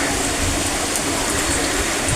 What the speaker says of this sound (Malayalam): നല്ല മഴയാണ് പെയ്തത്.